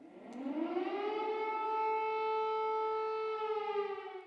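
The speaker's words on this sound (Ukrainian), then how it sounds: "Спільний брифінг лідерів прервала повітряна тривога." An air raid siren sounding during a wartime alert in Kyiv, one sustained rising wail that levels into a steady tone and holds, heard alone at moderate distance.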